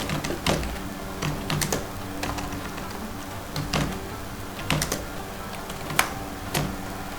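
Someone types on a computer keyboard while writing in MS Word 2007, producing irregular bursts of soft key clicks with short pauses and sharper individual taps, close and moderately quiet, with no talking.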